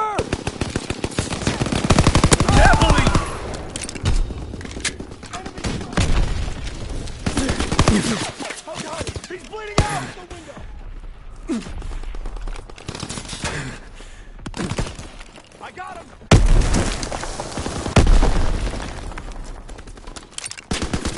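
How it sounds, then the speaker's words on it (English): Heavy automatic gunfire in a PS4 video game, with long loud machine-gun bursts and scattered single shots and booms that come in waves, under occasional shouted voices. "Taking heavy fire!"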